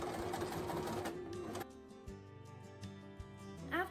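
A sewing machine stitches grosgrain ribbon waistband onto a ballgown skirt, a dense close whirring run that slows into spaced mechanical clicks and thumps.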